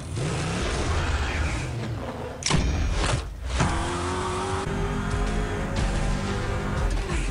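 The blood-powered car from the TV series Blood Drive roars along in a loud, steady engine drone, with a sharp impact-like burst midway through and no talking.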